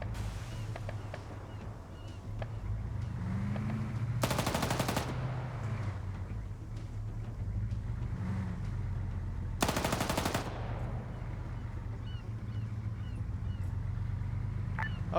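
Automatic machine gun fire in the military game Arma 3, loud sustained bursts near 4 and 10 seconds over a constant engine-like rumble and battlefield din.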